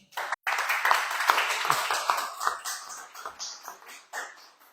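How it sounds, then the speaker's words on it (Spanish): Audience applause at a conference lecture on an archaeological site near Bonampak, a few seconds of sustained clapping from a modest crowd that swells and gradually thins out. "pido un fuerte aplauso, por favor"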